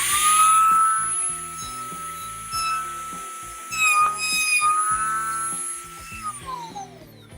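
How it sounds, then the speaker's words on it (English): A router cuts a recess for a Sugatsune HES3D-120 concealed hinge in a door, using a template. A high, steady motor whine runs under light cutting chatter, then the tone winds down as the router slows at the end. "always let your router come to a full stop before you remove it from the cut"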